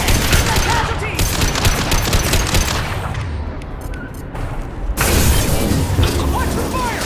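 Dense, loud automatic gunfire in the video game Mass Effect 2 runs almost continuously, with a brief lull in the middle before the barrage resumes in full.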